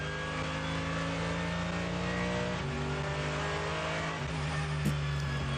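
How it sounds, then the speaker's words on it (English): A race car engine at Nürburgring 24 Hours qualifying drones steadily, then takes a short dab of throttle and lifts off again, its tone dropping and rising in a loud, close, continuous roar with no talk. "Just a dab of throttle and then off again, because he's got no heat in the front tyres here."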